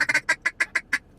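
Duck call blown in a feed-call pattern, a quick run of eight raspy quacks, the first few bunched tightly and the rest evenly spaced, loud and close with no other sound.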